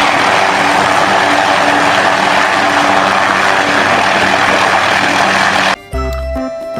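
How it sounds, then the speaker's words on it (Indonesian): Helicopter rotor and engine noise, a loud steady broadband whir with faint tonal hum that runs unbroken for about six seconds before cutting abruptly to a short burst of music. "Wadidaw, ada helikopter."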